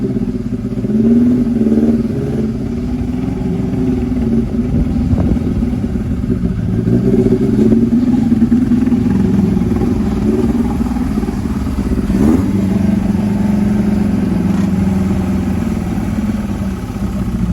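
A Mk1 Ford Fiesta XR2 garage-find engine runs with a steady, slightly chuffing idle and gentle rev swells, heard up close and continuous with no voices.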